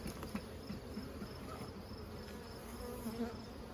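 Honeybees buzzing during a June hive inspection of a single brood chamber, a faint, steady droning hum with a few individual bees passing close, no speech.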